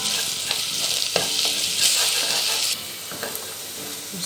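Onions fry in a pot, giving a steady bright sizzle close up, with scraping stirs as the onion is gathered from the sides of the pot. The sizzle drops a little partway through, and no one speaks.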